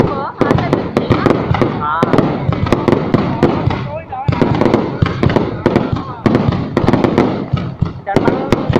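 Village fireworks in Vietnam burst in rapid, loud, sharp cracks and booms, one after another with no letup, while people chatter close by.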